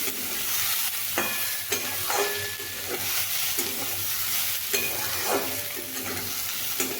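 Boiled chana dal is stirred and fried in a pan. A continuous sizzle runs underneath while a spatula scrapes through the lentils in repeated, evenly spaced strokes.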